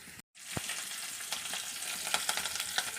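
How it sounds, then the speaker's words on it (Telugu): Garlic, curry leaves and dried red chillies sputter in hot oil with a faint, continuous sizzle and scattered crackles, heard alone after a brief silence. "వెల్లుల్లి అన్నీ, కరివేపాకు, పోపులు, ఆ వెల్లుల్లి, ఎండుమిర్చి వేస్తాం కదా, ఇవైతే బాగా ఫ్రై అవ్వాలి."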